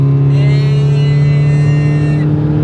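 Sports car driving fast on a track, a loud, steady engine drone with a strong low tone held throughout, heard from inside the car.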